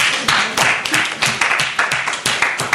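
Audience applause for a speaker at a talk on care work and property, a dense burst of many hands clapping steadily and fairly loud, continuing without let-up.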